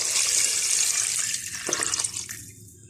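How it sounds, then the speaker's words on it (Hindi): Water pours into a pot of fried mutton, a steady splashing rush that gurgles and thins out toward the end before stopping. "पानी डालते हैं और इसको वेट लगाएंगे।"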